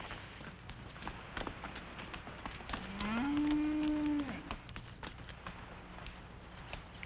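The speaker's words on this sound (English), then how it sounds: "Get your cattle." A single cow moos once on a ranch, a clear, drawn-out low call lasting about a second, over faint background movement and quiet ambient noise.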